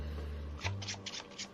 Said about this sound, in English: Shuffle those 8 cards up.